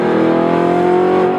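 Supercar engine revving hard through a loud aftermarket Armytrix exhaust, a sustained close, droning roar with strong harmonic tones and no speech.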